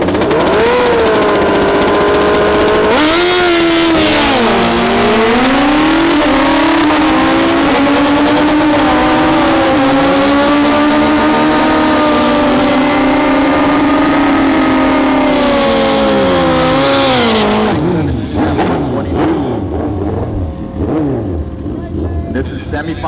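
Drag racing bikes accelerating down the quarter mile at a heads-up drag race at Toronto Motorsports Park: a loud, sustained engine roar with rising and shifting pitch, cutting off sharply near the end into a duller rumble.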